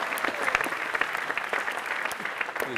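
An audience at a juggling show applauds a trick with multiple club spins, a steady patter of many hands clapping at moderate distance.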